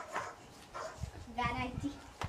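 Recorded dog barking and yipping plays in short bursts while a scared large dog reacts indoors, with people talking over and between the barks.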